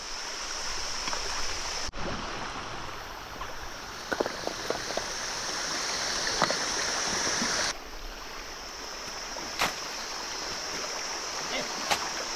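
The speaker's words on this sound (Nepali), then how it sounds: "यो चाहिँ एउटा खोला हो।" Mountain stream near a village in Seduwa, Makalu, flowing with a steady broadband rush close to the microphone, with a few handling knocks and clicks.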